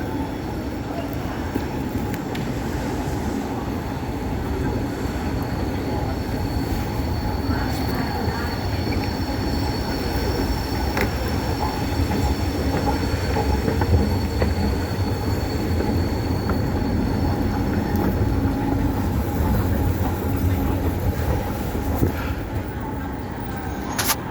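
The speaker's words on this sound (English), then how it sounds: "So we can see a H set there, an Intercity V set," Sydney Trains H set and Intercity V set trains at Central station produce a steady, loud rolling rumble with faint wheel squeal throughout, heard close and continuous with no talk over it.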